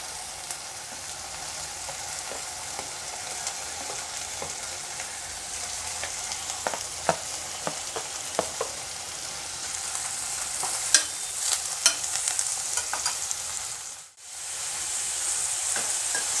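Sliced ginger, green chilies, garlic and curry leaves fry in a pan as a spoon stirs them, giving a continuous sizzle marked by sharp scraping clicks that grow busier, then a brief dip before the sizzle returns.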